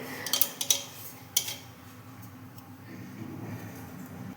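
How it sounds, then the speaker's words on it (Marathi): Granular salt pours into a metal pressure cooker with a few sharp clinks at the start, followed by a soft steady trickling hiss. "त्याच्यामध्ये इथे मी मीठ ओतत आहे"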